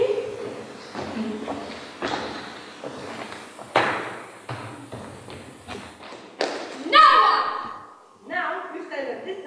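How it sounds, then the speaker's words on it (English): A series of knocks and thumps on a door in a stage play, irregular sharp raps spread out over several seconds, mixed with people talking. "Knocking."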